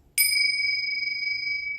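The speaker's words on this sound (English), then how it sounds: "These are chimes, Chinese chimes." Chinese chimes struck once, a bright metallic ping that rings on as a clear sustained tone, close and alone with no talk.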